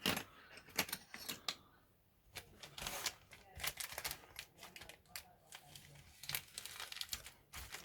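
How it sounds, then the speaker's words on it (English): Crinkly plastic bag rustles and crackles up close as it is cut open with scissors or a knife, with sharp snips and handling noises coming in irregular bursts and brief pauses. "you're going to have to get a pair of scissors or a knife to cut into this"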